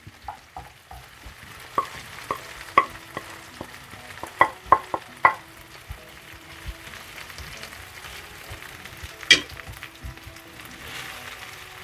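Green chillies and coriander powder sizzle in a pan for brinjal curry, a soft steady frying hiss broken by sharp scraping and clinking from a spoon stirring against the pan.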